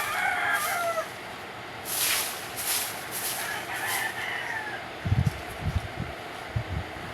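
Chickens cluck and a rooster crows outdoors in the morning, several calls overlapping across the stretch, with rustling and soft scuffing near the end.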